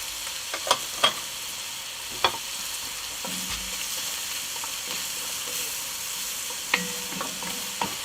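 Powdered sugar caramelizing in a pan for osso bucco over a braai fire, stirred with scattered scrapes and clicks over a soft, steady sizzle, close and fairly quiet, with no talking.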